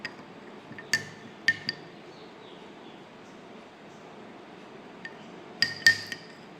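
A utensil stirring food in a pan gives a few sharp metallic clinks against it, spaced out in small clusters over a quiet background.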